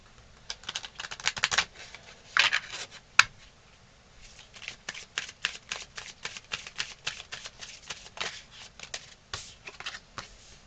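Oracle cards from an Everyday Witch deck being shuffled by hand, a long run of quick, crisp riffling flicks in irregular bursts, close and fairly quiet, with no talking.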